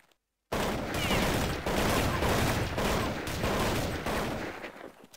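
Rapid rifle fire in a Counter-Strike match, loud sustained bursts of shots rattling almost continuously after a brief silence, close and dominant with no talk over it.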